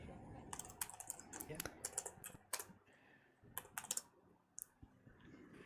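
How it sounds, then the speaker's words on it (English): Fast typing on a computer keyboard comes in irregular bursts of sharp clicks and clacks, close and quiet, with a short spoken word partway through. "I need to do lots of typing"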